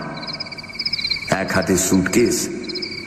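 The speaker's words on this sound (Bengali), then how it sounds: "ঝিঝি ডাকছে" Crickets chirp steadily in a high, continuous trill while someone speaks over them.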